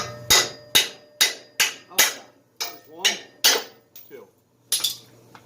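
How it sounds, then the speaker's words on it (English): Sharp metallic ball peen hammer strikes knocking out bolts during a flex pipe replacement on a Ford Focus ring out about a dozen times in a steady rhythm, loud and close, each blow leaving a brief ringing decay. "Let's see if I can knock those out first with a ball peen."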